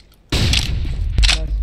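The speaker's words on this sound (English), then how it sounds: "Throwing flashbang." A flashbang grenade going off in Counter-Strike: Global Offensive, a sudden loud blast after a brief quiet moment, followed by sustained ringing noise with a second sharp burst near the end.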